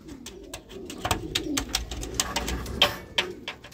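A racing pigeon coos softly nearby amid rustling and fluttering movement, with sharp clicks and scraping sounds scattered throughout.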